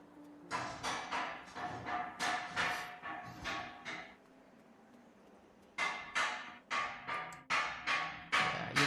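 Construction work sounds off in the distance in rhythmic runs of harsh, clattering bursts. A steady series plays, then a pause of about two seconds, then another steady series.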